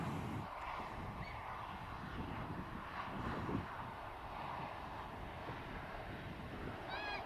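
An aircraft arriving at Manchester Airport roars as a steady, moderately distant engine drone that holds for several seconds, with faint bird calls and no speech.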